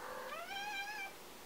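A cat gives a single rising-then-falling meow, clear and fairly close, in an otherwise quiet room.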